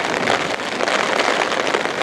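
Heavy rain falls steadily and loudly across an outdoor venue at the Yokosuka Peace Festival during stormy, windy weather, forming a dense, unbroken hiss with no voices.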